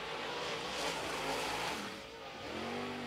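An Outlaw Late Model race car runs a lone qualifying lap at Carolina Speedway, its engine roaring past at a distance, swelling and then fading out with no voices on top.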